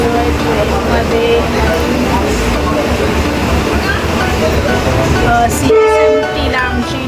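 Steady rumble of a moving passenger train heading to Goa from CSMT, heard from inside the coach, with loud continuous wheel and carriage noise throughout and people talking over it.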